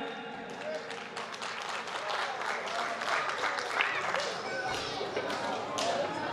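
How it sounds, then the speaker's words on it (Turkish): Wedding guests at a ceremony clap continuously in a lively, dense burst that persists throughout, mixed with chatter and voices talking over it. "Alkış gelsin anaya."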